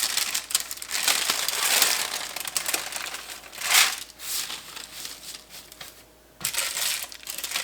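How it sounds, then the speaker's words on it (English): Parchment paper crinkles and crackles loudly as it is shifted around on baking trays of homemade granola, in repeated close bursts with short pauses between, one brief quiet gap near the end. "I just kind of move the parchment paper around."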